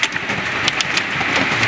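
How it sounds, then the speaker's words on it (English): Hail and rain pelt a boat on a lake in a dense, steady hiss, with sharp close ticks and clatters of stones striking the hull, alone and loud with no voices. "you can see the hail blowing completely sideways"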